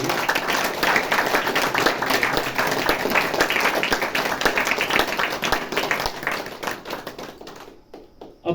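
An audience at a Navratri camp motivational talk claps loudly and continuously for several seconds, a dense roar of many hands that fades out near the end.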